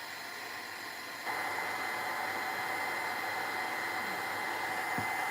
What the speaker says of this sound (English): I'm drying the heavy body gel and the paint